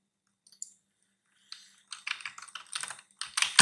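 Typing on a computer keyboard while writing HTML code, heard as a few scattered clicks first, then denser bursts of close keystrokes, with no talk.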